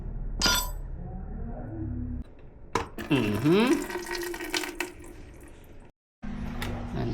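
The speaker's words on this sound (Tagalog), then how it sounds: "Drain muna natin yung coolant." Coolant runs out of the engine of a small AR-80 motorcycle in a workshop, a close, steady liquid trickle with splashing that drops out briefly, punctuated by a sharp metallic scrape and some clatter.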